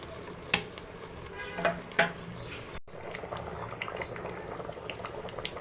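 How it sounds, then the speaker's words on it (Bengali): Moong dal is stirred into bottle gourd greens and cauliflower simmering in a pot, bringing a few sharp spoon knocks early on, then a low bubbling, wet burble that stays quiet and steady. "নেড়ে চেড়ে সবজিগুলোর সাথে মিশিয়ে নিব ডালটাকে মুগের ডালটাকে তারপর আরেকটু জাল দিয়ে নামিয়ে নিব"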